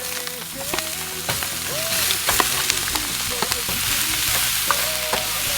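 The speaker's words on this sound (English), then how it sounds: "We got the onions in, diced up, stir them around. Meatballs in now." Diced onions and meatballs fry in a pan with a loud, steady sizzle, broken by sharp clicks and spatters as they are stirred around, while occasional tonal squeaks rise above the frying.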